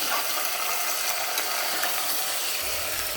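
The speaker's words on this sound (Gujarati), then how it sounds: "હવે આ બધી ચીપ્સને આપણે વઘાર સાથે મિક્સ કરી દઈશું।" Washed potato chips being stirred into hot tempering in a pressure cooker for fasting-style dry potato bhaji, giving a steady broadband sizzle with scraping and clinking stir sounds throughout, close and fairly loud, no voices.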